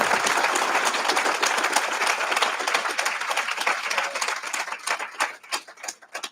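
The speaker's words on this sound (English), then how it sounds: "Can we give the captain another round of applause" Audience at a prisoner-reentry graduation ceremony applauding, dense sustained clapping from a large crowd that thins out toward the end.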